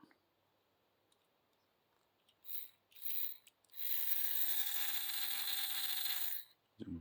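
A small HO-scale Tyco slot car motor is run on a 9-volt battery, giving two brief bursts and then a steady high-pitched electric whine for about three seconds up close, with no talking.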